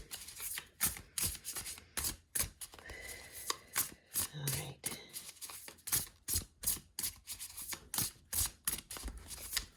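Tarot cards being shuffled in a rapid, steady series of crisp riffling bursts up close, with a brief pause partway through and no voices.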